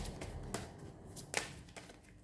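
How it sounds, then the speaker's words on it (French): Cards from a Merlin oracle deck are shuffled and one is drawn, several soft quick slaps and rustles heard close and quiet, with no voice. "Je vais tirer une carte dont je vous donnerai la signification à la fin du tirage."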